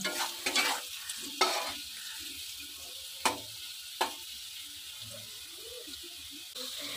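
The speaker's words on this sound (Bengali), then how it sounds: "তো এখানে আমি দিয়ে দিলাম হলুদটা দিয়ে একটু নাড়াচাড়া করে নেব।" Rohu fish curry with potatoes and turmeric is stirred in a sizzling pan. A soft frying hiss runs throughout, broken by a few sharp scraping clicks of the spoon against the pan.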